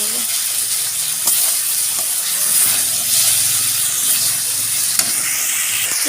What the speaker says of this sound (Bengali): এবার আমি একটুখানি জল দেবো